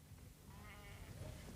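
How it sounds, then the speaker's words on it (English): Sheep bleat over a steady low background hum while being fed thistles contaminated with microbe spores, the calls wavering and moderately close. "Chamberland is feeding the sheep contaminated thistles."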